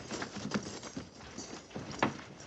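Faint hoof clops patter irregularly on the ground, a few soft thuds from horses moving about at a short distance.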